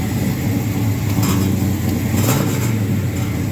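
A truck's engine idles steadily with a loud, continuous low rumble and a buzzing rattle from the rear exhaust, no voices present.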